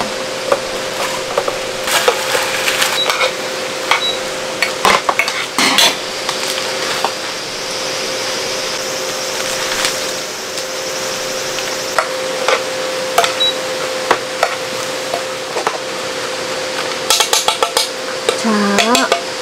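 Cooked shrimp stirred into sauce in a pan during rainy solo car camping, giving soft utensil scrapes and clinks over a steady background hiss, fairly close and continuous with a few sharper taps.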